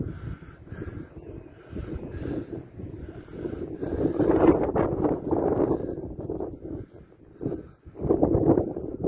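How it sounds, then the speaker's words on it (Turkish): Strong gusts roar and buffet the microphone while flying pigeons, swelling and easing in waves, loudest in the middle and again near the end. "Çok fazla rüzgar var arkadaşlar"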